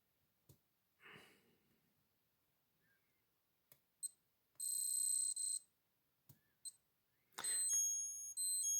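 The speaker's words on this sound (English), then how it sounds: "That's what the alarm sounds like." A few scattered clicks while setting a Seiko 7T32 wristwatch, then two bursts of rapid high-pitched electronic alarm beeping, each lasting about a second, close and clear against silence.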